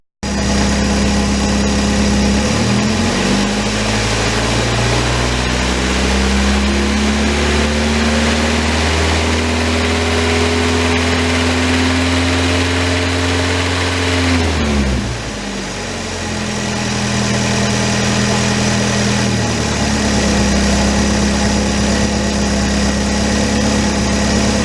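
A Nissan 240SX KA24DE engine with low oil pressure idles steadily and loud, its drone dipping and rising in pitch partway through, with no talk.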